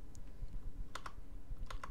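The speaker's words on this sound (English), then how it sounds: "then you type in this command" A computer keyboard clicks as someone types a short command, a few quick, light keystrokes bunched near the end, quiet and close with nothing else heard.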